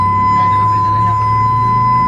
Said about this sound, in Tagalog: May sirena.